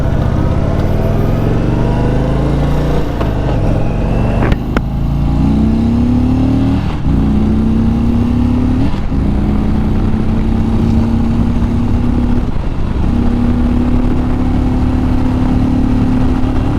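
A 2021 Indian Super Chief Limited motorcycle with its Thunderstroke 116 V-twin accelerates hard and climbs steadily through several gear shifts, each marked by a short dip before the engine note rises again. The engine sounds loud and close.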